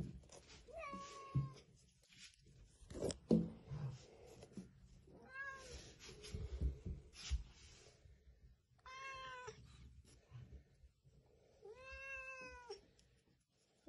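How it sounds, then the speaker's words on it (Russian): A cat recovering from surgery meows several times, drawn-out and complaining, close by, with handling noises and rustling in between. "Очень разговорчивая кошка"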